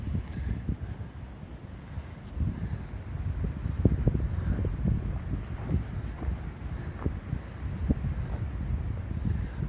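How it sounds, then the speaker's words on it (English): Wind gusting through half-burned trees on a hillside, a steady rough rush with low buffeting against the microphone, rising and falling slightly, no voices. "The wind's picked up."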